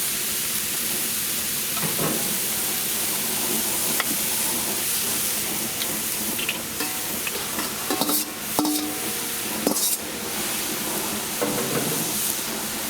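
Vegetables stir-frying in a hand-hammered wok outdoors on a back deck, a steady loud sizzle and hiss with repeated scraping and tossing of the spatula, no talking.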